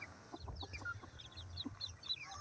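Soft, close clucking from chickens, a series of short bursts and low murmurs at a quiet level, with no voices.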